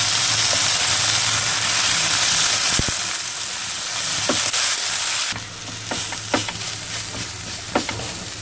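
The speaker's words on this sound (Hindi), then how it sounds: "हल्का सा भूनने के बाद इसमें मटर डालेंगे।" Boiled green peas sizzle and are stirred in a hot pan while being lightly roasted for a spiced potato filling; a loud, steady frying hiss, then the hiss drops and scraping spoon strokes come through clearly.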